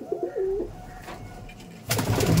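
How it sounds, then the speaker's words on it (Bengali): Giribaz and Madras pigeons coo inside a loft, with a soft, close, rolling coo at the start, followed by quieter loft noise and then a louder rustle near the end. "পায়রাগুলো দেখুন,"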